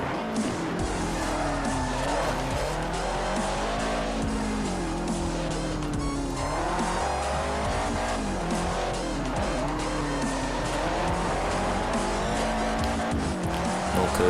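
Subaru R3 rally car in the Forza Horizon video game, its engine revving hard with rising and falling pitch under continuous tire squeal and skidding, loud and close throughout without pause.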